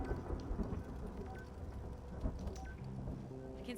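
A thunderstorm in the video game Return to Grace, with steady rain and low rumbling thunder filling the background at a fairly constant level, without any talk.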